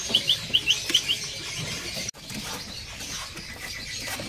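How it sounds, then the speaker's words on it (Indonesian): Small songbirds at a bird shop, including a sniper bird, give a quick series of six high chirps in the first second, then fall silent over a steady low hum of room noise. "Udah mulai nyerecet ya."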